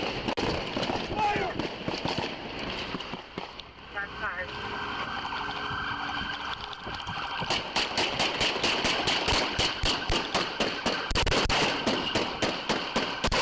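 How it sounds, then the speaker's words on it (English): Gunfire from a suspect captured on a police body-worn camera, a rapid series of sharp, loud bangs in bursts, with an engine running and voices in the background. "That's all gunfire coming from the suspect."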